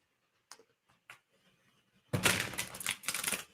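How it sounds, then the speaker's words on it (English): A deck of tarot cards is shuffled: a few soft isolated clicks of handled cards, then a loud, dense riffling burst lasting over a second, with no voices. "It's probably enough shuffling for that one."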